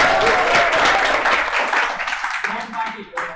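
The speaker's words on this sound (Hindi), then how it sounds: "ताली तो बजा दो।" A lecture class bursts into loud, dense applause from many hands, sustained and close before thinning out toward the end, with some voices mixed in.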